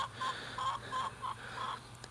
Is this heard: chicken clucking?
yes